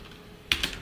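Two quick taps on a computer keyboard land near the end after near silence, close and crisp.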